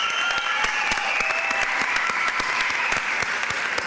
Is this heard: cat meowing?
no